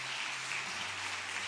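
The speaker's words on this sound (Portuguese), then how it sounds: "Aplauda o Senhor Jesus, querida igreja." Church congregation applauding during a Portuguese-language worship service, a steady, dense wash of clapping filling the short span with a low hum beneath.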